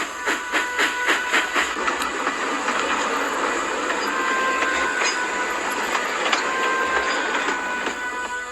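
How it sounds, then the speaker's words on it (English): Two steam engines move off with a rhythmic clickety-clack and chugging, steady and fairly close, with metallic squeals over a continuous rumble. "both engines made their way"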